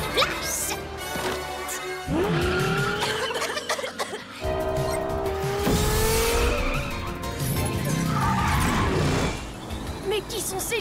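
A fast cartoon race car tears along with tires squealing and skidding, engine whines sweeping up and down and a crash-like thump, over busy background music and sound effects.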